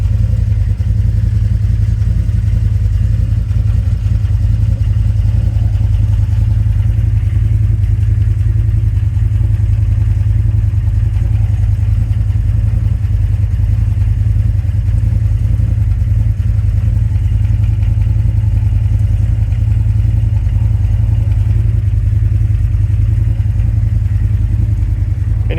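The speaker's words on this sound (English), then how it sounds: "I did a custom flowmaster exhaust system build on it a while back" A 2016 CF Moto with a custom Flowmaster exhaust idles close by, giving a loud, steady, deep engine rumble that holds unchanged for the whole stretch with no voices.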